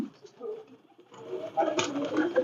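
An imported Pakistani Batera pigeon coos softly at close range, a low murmuring call that swells in the second half amid light background noise.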